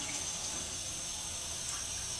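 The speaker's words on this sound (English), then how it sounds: "I should now have a good stream of water." Water from the plastic hose of a water ionizer setup runs as a steady, close hiss and splash, unbroken and even throughout.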